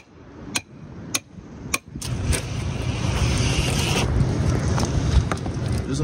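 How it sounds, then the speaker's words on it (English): Hand chisel strikes on a rock slab while chipping out fossil reptile vertebrae at a landslide site, three sharp clicks in the first two seconds, then a steady rough scraping and crumbling of stone with a few more taps, fairly close. "let's get the chisel and see if there's anything further inside"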